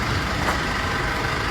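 A Chevrolet engine runs steadily with a low rumble and constant broadband noise, close by, with no talking.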